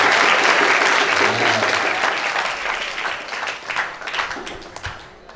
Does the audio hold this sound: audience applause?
yes